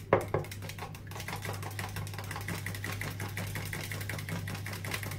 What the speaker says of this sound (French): pour mélanger mes œufs et ma crème fraîche, je prends ma cuillère magique